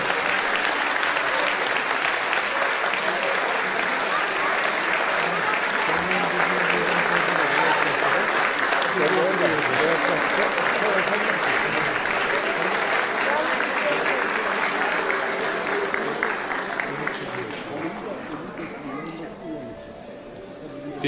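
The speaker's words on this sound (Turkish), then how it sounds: "Alkışlar lütfen kesilmesin." A concert audience keeps up loud, continuous applause for a Turkish art music choir, dense and even before tapering off toward the end.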